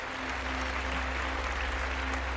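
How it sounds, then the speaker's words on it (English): Steady applause from a crowd, continuous and fairly even throughout with no talk over it. "that is a big round of applause for Lou."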